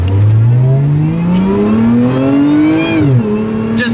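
A $100,000 supercar accelerates hard at full throttle, its engine note loud and close, climbing steadily in pitch through the gear before a brief dip at a shift, then rising again.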